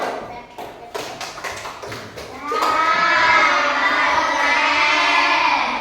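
Schoolchildren in an Indonesian primary classroom do a rhythmic clapping chant: a run of sharp, evenly spaced claps gives way to loud group chanting and shouting from many young voices.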